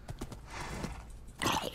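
A horse in the Minecraft video game clip-clops at a quick gallop, then lets out a sharp whinny near the end, heard close and fairly clear with no talking.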